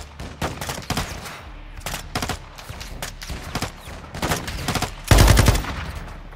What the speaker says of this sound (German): Keine Ahnung, auf was die schießen.